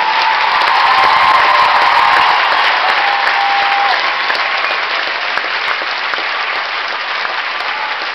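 Concert crowd at The Orpheum bursts into loud, dense applause and cheering for a band's drummer, a sustained roar of clapping that holds steady and eases slightly over several seconds.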